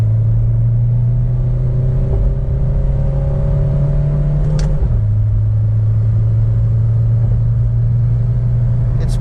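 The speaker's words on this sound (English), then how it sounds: "If I just drop a gear and just give the throttle." Tuned Suzuki Baleno with a 1.3 DDiS diesel engine pulling hard after a downshift from fifth gear, a steady loud droning engine note rising and shifting pitch once partway through, heard from inside the car with no talking.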